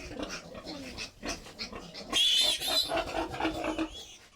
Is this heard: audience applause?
no